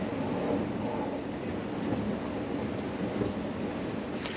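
A pair of Koploper trains pulls into a Dutch station on the line to Zwolle, heard from the platform as a steady, fairly quiet rumble of wheels and motors with no talking.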